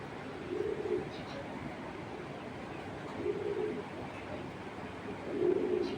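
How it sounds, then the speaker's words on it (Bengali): Domestic pigeons at a loft coo in three low, soft bursts spaced a few seconds apart, close by and faint against a steady background hiss. "আচ্ছা কাছে থেকে দেখে কবুতরটা"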